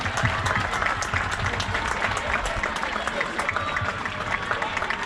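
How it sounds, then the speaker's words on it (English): A crowd applauds the mayor at a Little League opening-day ceremony outdoors, with steady, mid-distance clapping and cheering and voices mixed in. "Big round of applause for Mayor Smith."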